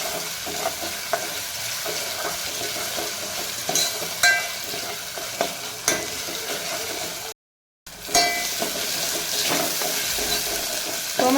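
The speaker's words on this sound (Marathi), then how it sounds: "हे वाटण सुद्धा यामध्ये छान परतून घ्यायचं।" Tomatoes and masala paste sizzling as they sauté in a pan for chicken masala, with a steady fry hiss, intermittent stirring scrapes and a short silent gap partway through.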